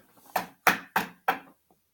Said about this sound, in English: I'm knocking on wood